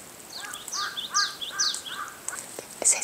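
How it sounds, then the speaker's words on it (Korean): Birds chirping and calling at a campsite in the morning, several short bright calls repeating through the stretch, fairly faint against quiet outdoor air. "새소리가 들려와가지고"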